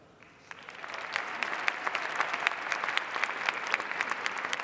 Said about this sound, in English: Please hold your applause until the end